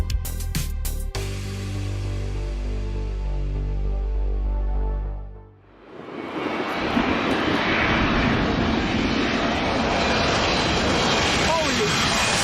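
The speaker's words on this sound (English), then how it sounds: "a plane landing so low that it passes right over people's heads like this" A low-flying fixed-wing jet plane landing overhead, its engine roar swelling from a brief lull into a loud, sustained broadband rush that fills the scene, with voices present underneath.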